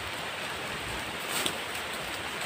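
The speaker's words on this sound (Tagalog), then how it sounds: "Lakas ng ulan, guys." Heavy downpour during a wet outing outdoors, a steady broadband hiss of rain that stays even and fairly loud throughout, with one brief splashy burst near the middle and no talking.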